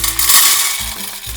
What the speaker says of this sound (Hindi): कुकर लेंगे, राजमा को उसमें ऐड कर देंगे